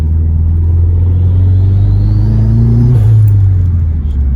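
A turbocharged 2.5L Mazdaspeed car engine rumbles loudly and steadily, its pitch climbing smoothly as it accelerates at light throttle, then dropping briefly near the end.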